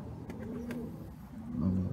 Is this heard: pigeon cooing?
yes